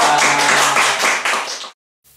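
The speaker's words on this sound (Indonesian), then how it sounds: "Tepuk tangan." A room of people gives a short burst of hand clapping at a church Valentine's-month program, close and lively, tapering off before cutting to near silence.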